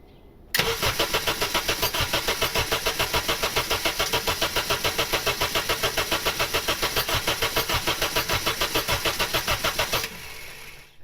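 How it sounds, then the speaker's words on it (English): A Honda Civic with an R18 engine and an eBay turbo build cranks over steadily on the starter for nearly ten seconds without firing, a fast, even, loud chug that stops abruptly, with no voices. "cranking it over, letting it cool off for 30 seconds, cranking it over until we pressurize the system"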